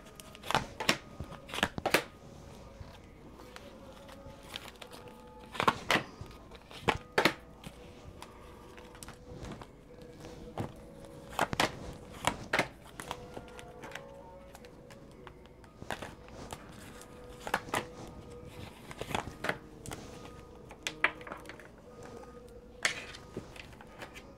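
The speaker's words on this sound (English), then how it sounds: "I'll give these a quick shuffle." A deck of tarot cards being shuffled, with repeated crisp riffles and slaps coming in bursts, close and fairly quiet, with no talking.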